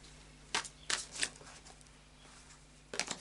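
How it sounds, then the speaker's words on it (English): Crisp bursts of oracle card shuffling, a few short riffles spaced apart with quiet pauses between, then one more burst near the end. "So I've done a pre-shuffle of the fairy oracle cards, so I'll just do a final shuffle now."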